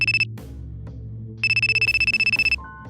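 A phone ringtone rings out during a business meeting: two bursts of rapid, bright electronic trills separated by a short pause, clear and alone with no talk.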